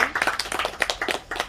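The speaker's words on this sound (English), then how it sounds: "Another round of applause." Audience applause at a women's business brunch in Kampala: a short, close burst of many hands clapping in quick, uneven rhythm, lasting just over a second.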